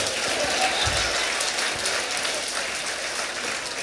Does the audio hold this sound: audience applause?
yes